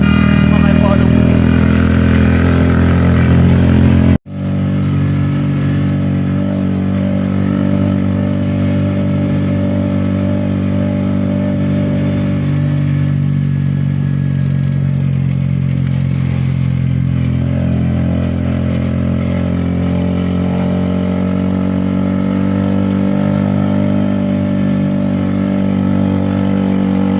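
A motorcycle carries a passenger through the rain on the way to Luneta, its engine droning loudly and continuously close by over a rushing wash of wind and road noise, with one brief cut near the start.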